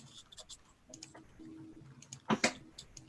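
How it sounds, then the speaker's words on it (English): Buttons clicked on a computer while going live, heard as faint scattered ticks and clicks with one louder burst of clatter near the end, alone without talk. "Clicking some buttons here."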